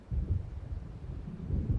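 Low, rolling thunder from a storm moving in, heard in the game Alan Wake Remastered, rumbling in two swells with no voices present.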